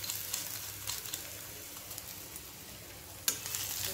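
Onion and thecha chili paste frying in a pan, a steady soft sizzle with light stirring scrapes and one sharp clink near the end, no talking.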